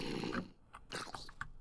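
Dog in the Minecraft video game making short low growls and snuffling bursts, quiet and close, with a few clipped sounds toward the end and no speech.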